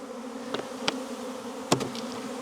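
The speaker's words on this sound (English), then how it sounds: "you just shake all of the bees out" Honey bees shaken off hive frames during a beehive inspection give a continuous close, droning buzz, with a few sharp knocks and thumps from the frames.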